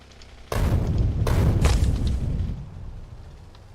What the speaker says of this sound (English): Grenades are the best forest removal tool I have available other than the flamethrower